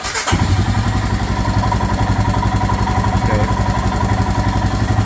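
A Royal Enfield Himalayan motorcycle engine idles hot with a steady, close, loud single-cylinder thump and mechanical clatter running continuously after a brief start.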